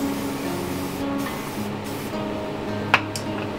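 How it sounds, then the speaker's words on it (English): A steady continuous hiss of hairspray from an aerosol can, held for several seconds with a brief sharper burst near the end, no talking. "Go ahead and spray it."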